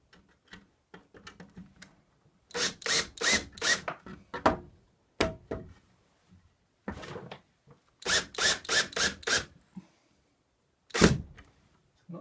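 A power drill whirs in short pulsing bursts, driving a screw into a wall for a coat rack, several quick trigger pulls with pauses between, plus faint tapping and handling noises.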